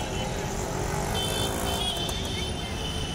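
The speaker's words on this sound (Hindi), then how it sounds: "इधर से ये ट्रैफिक आ रहा है" Steady road traffic at a police-staffed city intersection in Morbi, Gujarat, India, a continuous roar of engines and passing cars and motorbikes, loud and close, with a faint voice briefly beneath.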